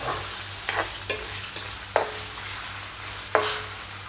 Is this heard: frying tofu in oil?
yes